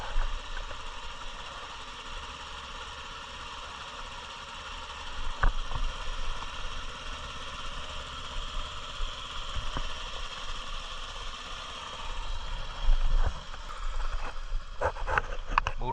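A parked car idles in snowy cold as its silencer warms up, a low, steady engine hum running continuously with a few faint knocks and clicks.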